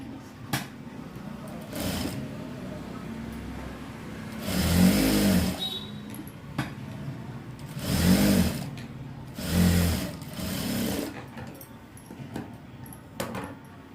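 An electric sewing machine stitches blouse lining in short runs, several whirring bursts of a few seconds each separated by pauses with faint handling noises, heard close up without talk.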